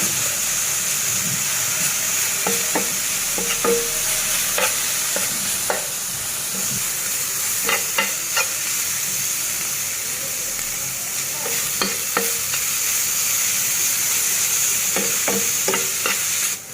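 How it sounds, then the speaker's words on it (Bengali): Radish greens frying in a pan hiss loudly and continuously while a utensil repeatedly scrapes and knocks against the pan in irregular bursts of stirring, with no one speaking. "এভাবে নেড়ে ছেড়ে নিতে হবে শাকটা, নাইলে নিচে দিয়ে পুড়ে যাবে।"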